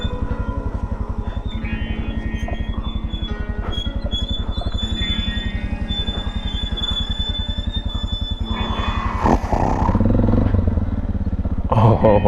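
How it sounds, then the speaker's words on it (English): An off-road motorcycle's engine putters in a steady rapid pulse, close by and continuous, with rattling clatter and a brief louder rush near the end. "This is an off-road bike."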